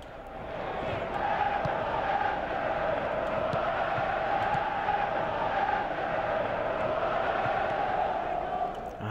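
A stadium crowd in the football video game PES 2017 keeps up a steady, continuous roar and cheer, a broad wash of noise with no clear peaks, with commentary-style speech partly audible beneath it.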